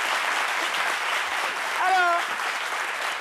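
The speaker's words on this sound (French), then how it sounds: "C'est bien, on l'applaudit très fort." An audience claps loudly and steadily in a hall, sustained applause filling the whole stretch while a voice speaks briefly over it.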